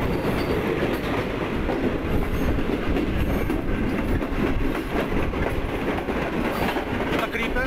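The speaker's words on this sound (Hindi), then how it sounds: "काफ़ी टाइम के बाद ट्रैक साउंड सुनने को मिल रहा है" A CRRC Tangshan train rumbles along the rails between Mandi Bahauddin and Malakwal, a loud, continuous onboard roar with steady rattling of the wheels on the track.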